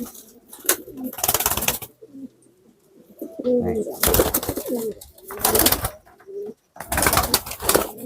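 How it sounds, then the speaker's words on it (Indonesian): Pigeons coo softly in low, rolling calls, interrupted by bursts of louder rustling noise and a brief spoken word. "ini merpatinya teman-teman"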